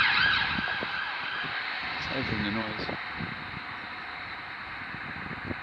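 An ambulance siren wails through busy street noise, its rising and falling tone steady in the background while voices murmur nearby.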